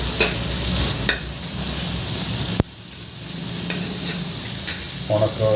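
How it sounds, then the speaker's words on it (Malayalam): Sliced onions and curry leaves sautéing in a pan for a dry chicken gravy, a steady close sizzle with stirring scrapes and a sharp utensil knock partway through; no one speaks. "കറിവേപ്പിലയും സവോള ഇട്ടിട്ട് നല്ല വഴട്ടാം"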